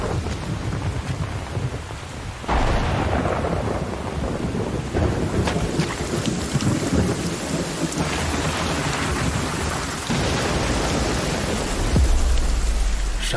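A heavy rainstorm pours down steadily with dense hissing rain, while rolling thunder rumbles in low, deep swells through the storm, loud and enveloping with no voices.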